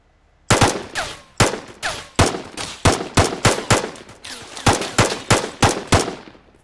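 Gunfire in the video game Adversary: about a dozen loud, sharp shots fired in a steady, evenly spaced rhythm, each with a short ringing tail, close and alone without talk.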